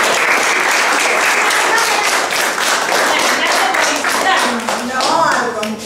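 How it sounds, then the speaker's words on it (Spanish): Children applaud at an outdoor giant chess event in a plaza, with dense, loud, close clapping that holds for several seconds and then thins out, while voices mingle underneath. "Bueno, un aplauso."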